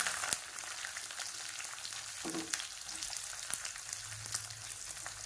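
Small shallots frying in hot oil with curry leaves, a steady close sizzle with crackles and occasional stirring knocks, with no voices.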